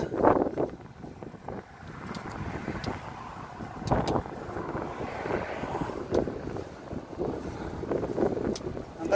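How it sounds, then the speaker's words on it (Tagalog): Seaside wind at Hudayriat, Abu Dhabi, buffets the microphone during a mountain bike outing, a steady rushing roar with gusty swells that runs the whole time, close and moderately loud. "Mahangin pa."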